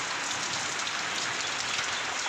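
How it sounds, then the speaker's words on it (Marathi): Heavy rain pours down in Jalgaon during the first rain of Chaitra, a dense, constant hiss of drops striking surfaces with no breaks. "आमच्याकडे पावसाने असा कहर चालू ठेवलेला आहे"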